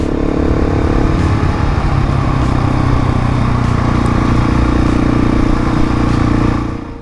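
A Husqvarna 701 adventure motorcycle rides along a dirt road, its engine droning loud and steady with constant rumble and rattle throughout, then easing off near the end.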